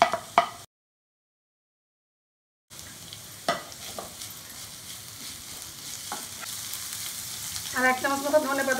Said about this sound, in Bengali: দিয়ে সবগুলো মাংসের সঙ্গে আমি একটু ফ্রাই করে নেবো।